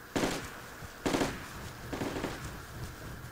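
Gunfire in the Project Reality military shooter game during a mechanized infantry battle: three loud bursts of shots about a second apart, each trailing into a rumbling echo, with no voices.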